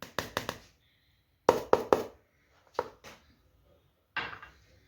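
A spoon stirs tamarind powder in a bowl, producing clusters of quick hard clinks and scrapes against the bowl, grouped in short bursts separated by quiet pauses, close and distinct.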